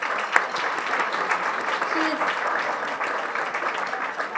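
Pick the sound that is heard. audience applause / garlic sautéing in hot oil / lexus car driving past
audience applause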